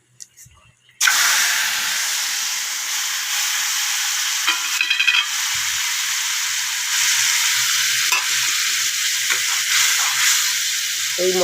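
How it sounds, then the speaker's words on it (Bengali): A spice paste of onion, garlic, ginger, tomato, Kashmiri chilli and raisin paste with meat masala bursts into a loud, steady sizzle in a pan after a quiet start, with brief stirring scrapes and clinks along the way. "আর দিয়েছি মিট মশলা দিয়ে মশলাটা কষিয়ে নিচ্ছি"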